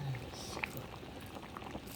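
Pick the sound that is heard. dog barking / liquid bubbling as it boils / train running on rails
liquid bubbling as it boils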